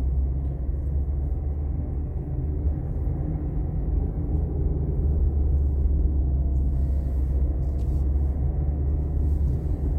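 Car driving along a city street in Vénissieux, a steady low engine and road rumble from inside the cabin that swells slightly as it picks up speed, with no talking.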